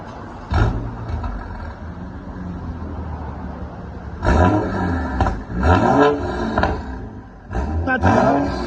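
A BMW X5 F15 with the N55 engine and a full straight-pipe exhaust revs in repeated loud bursts, a raspy roar rising and falling several times over a rough idle.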